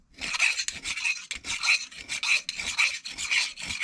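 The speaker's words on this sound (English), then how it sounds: "So you want to take your chainsaw file or take a round file" A round chainsaw file rasps against a metal nub on a chainsaw chain in repeated back-and-forth strokes, steady and close, roughly two strokes per second with short pauses between.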